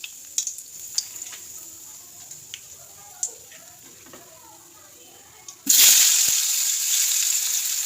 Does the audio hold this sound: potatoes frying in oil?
yes